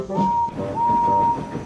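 Henry the steam engine whistles cheekily while passing, a short clear tone followed by a longer sustained one over a low rumbling background.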